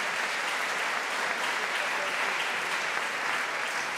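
Steady audience applause fills a tribute ceremony at Paris city hall, a dense, even wash of many hands clapping throughout, heard from within the hall at moderate volume.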